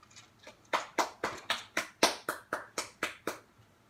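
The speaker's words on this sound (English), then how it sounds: "I'm clapping my leg." A hand slaps a thigh about a dozen times in a steady, fairly quick rhythm, each smack sharp and close, with a couple of softer taps at the start and no talk over it.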